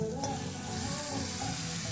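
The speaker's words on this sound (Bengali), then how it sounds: "বন্ধুরা মশলাটা যখন ব্রাউন কালারে ভাজা হয়ে যাবে তখন এই যে ম্যারিনেট চিকেনটা এর মধ্যে দিয়ে দেবেন" Marinated desi chicken sizzles in spices fried to a brown colour, a steady hot crackle in the pan with soft stirring scrapes, close by and without talk.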